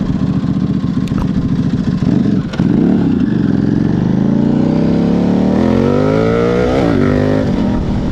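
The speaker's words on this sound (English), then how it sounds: "It's this V-twin noise, V-twin torque." A 2009 Buell 1125R V-twin motorcycle engine accelerating loud and close, its rising rev pitch climbing steadily through the gears with a throaty, pulsing V-twin tone, under wind rush.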